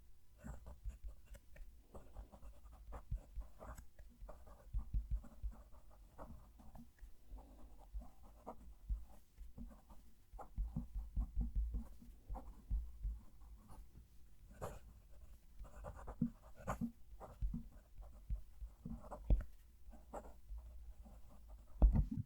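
A medium-nib fountain pen writes a sentence on paper, giving faint, close scratches and soft tapping strokes in an irregular stream over a low background hum, with a dog panting quietly nearby.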